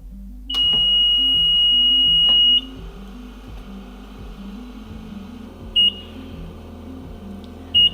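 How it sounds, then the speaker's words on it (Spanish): An oxygen generator sounds its alarm for interrupted oxygen flow: a long steady high beep followed by two short beeps, over a low, rhythmic pulsing hum from the machine. "esta es una de las alarmas donde hay interrupción en el flujo de oxígeno"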